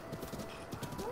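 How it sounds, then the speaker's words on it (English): Hooves of a giant horse galloping in the video game The Legend of Zelda: Breath of the Wild, a quick steady clip-clop with a brief whinny rising near the end. "look at my horse"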